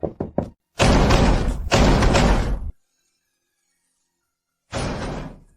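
Knocking on a door downstairs in a tense indoor scene: a quick run of three sharp raps, then two long, loud heavy bursts, a silent pause, and one more loud burst near the end.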